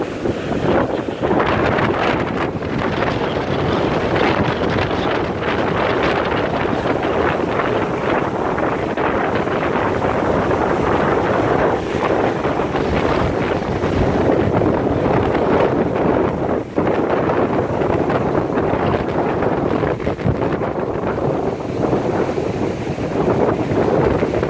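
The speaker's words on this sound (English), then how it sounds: "it doesn't take much of a wave now to wash things up to what's left of the dune line here" Ocean waves wash up toward the eroded dune line at Kitty Hawk, North Carolina, near milepost 2 as a storm approaches, with steady loud surf roar under constant heavy wind buffeting the microphone.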